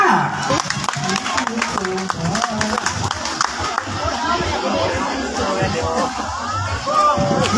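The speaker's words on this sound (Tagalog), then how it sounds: "Palakpak!" Audience applause and crowd chatter at a Tawag ng Tanghalan singing contest event in Tanza, steady clapping mixed with babble and a voice speaking over it throughout.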